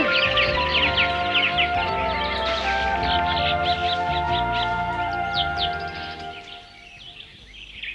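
Cartoon birds calling in a Hindi Jungle Book episode, a busy flurry of chirps and clucking calls over a layered music bed, fading toward the end.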